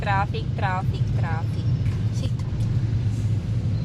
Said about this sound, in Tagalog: Tingnan nyo, sa traffic ngayon.